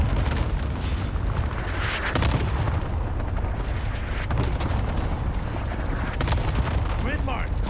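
A Buster airstrike in a battle royale video game pounds the area with continuous heavy booming explosions, loud and rumbling throughout, while a voice speaks over the barrage.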